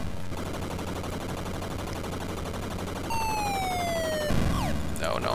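Helicopter bombs in the NES game Spy Hunter fall with a sharp descending whistle, several tones sliding down together and then a burst, over a steady droning engine and gunfire bed of 8-bit game audio.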